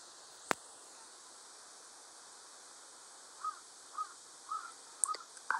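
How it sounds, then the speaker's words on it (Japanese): A crow caws four times in a slow, evenly spaced series, fairly distant and soft, over a faint insect hum with a sharp click just before; no one speaks. "カラス。"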